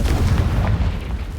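Confringo spell blast in the Hogwarts Legacy video game, a single deep booming burst that rumbles and fades over about a second, loud and alone.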